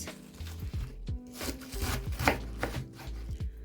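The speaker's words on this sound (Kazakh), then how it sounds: "Енді осы мынандай шеттерін турап аламыз." A knife cuts away the outer edges of a small cabbage on a board, a run of crisp, irregular chopping strokes close up, with no talk.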